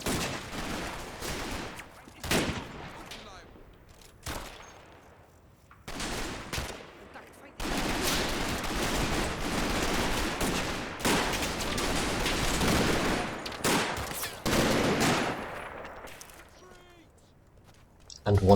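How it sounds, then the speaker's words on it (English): Defending troops open up with sustained rifle and machine-gun fire in the Combat Mission wargame, during Operation Epsom. Bursts and single shots come in irregular clusters, then build into a long, dense fusillade with a few scattered shots and faint footsteps. "defenders opened fire."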